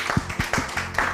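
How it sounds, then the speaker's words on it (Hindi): Studio audience clapping for a guest on a Hindi TV show, a short burst of several quick claps in an uneven rhythm, moderately close. "तालियां होनी चाहिए इनके लिए"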